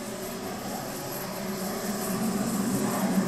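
An F-16 fires a missile in a flight simulator game, a continuous roaring jet rush that swells slightly louder toward the end, heard alone without talk.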